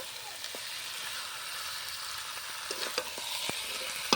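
Meat sizzles and fries steadily in a pan while it is stirred, with scattered scraping clicks from the utensil over a constant hiss, close up and with no talking.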